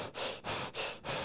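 A voice imitates hyperventilation, producing three loud, rapid panting breaths in a quick, even rhythm, close and alone with no talk.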